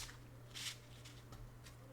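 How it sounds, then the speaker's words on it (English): Plastic playing cards from a new Bicycle Prestige deck being shuffled by hand, giving a few soft riffling bursts over a steady low hum, fairly quiet and with no talking. "so the shuffling is actually pretty nice."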